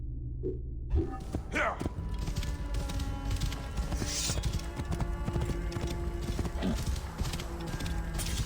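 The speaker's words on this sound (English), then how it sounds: "It's a horse riding animation." Horse hooves clop rhythmically at a quick gallop over a mechanical hum in the video game Assassin's Creed Origins, with a short whinny-like sound near the start.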